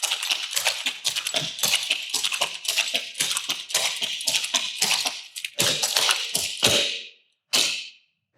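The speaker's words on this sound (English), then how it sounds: "And just tap your heels as fast as you can." Rapid heel taps from a Red River Jig dancer patter in a fast, even stream of sharp, crisp clicks, close and loud, breaking into a few separated stamps at the end with no talk.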